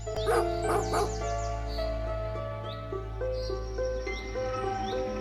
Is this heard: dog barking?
yes